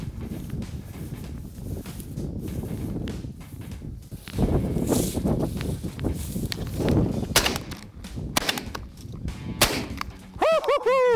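Gunfire during an outdoor pheasant hunt, with several loud sharp blasts spread through the passage among rustling movement and footsteps, and a brief high call near the end.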